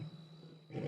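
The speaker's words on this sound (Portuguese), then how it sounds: "O urro do leão é emocionante." A lion roars at night on a South African safari, a low, rough call close to a vehicle that swells louder toward the end.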